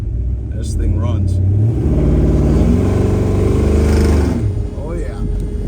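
A 1969 Chevrolet Chevelle engine idling with a loud, steady low rumble that swells slightly midway, with someone speaking briefly over it.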